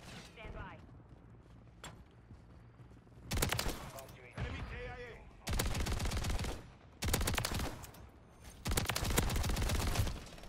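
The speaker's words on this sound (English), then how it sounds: "my bullets are not going through that, like, that third person when I'm shooting" Bursts of automatic gunfire in Call of Duty Modern Warfare 3 multiplayer, five loud sustained volleys of rapid shots separated by short gaps, with fainter single shots and mechanical clicks early on.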